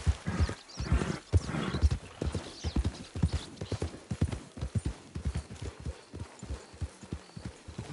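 Horse hooves clip-clopping steadily in a PS4 video game, a close, rhythmic run of hoof strikes with a brief whinny near the start.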